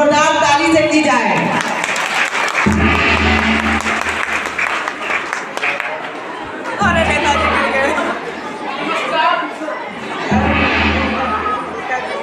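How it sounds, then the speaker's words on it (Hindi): Applause for a leader character arriving on stage in a kindergarten school drama, a loud crowd clapping under bursts of chatter and shouting, with heavy low thumps and a stage voice calling out at times. "हमारे नेताजी का स्वागत जोरदार ताली से की जाए।"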